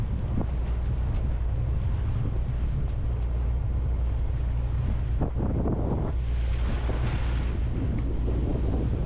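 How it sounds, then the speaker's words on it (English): Steady wind buffets the microphone over a continuous wash of sea waves around a sailboat moving off the northern tip of an island on a breezy morning, loud and unbroken, with a brief splash or thump midway. "we're getting a little bit of waves, a little bit of wind"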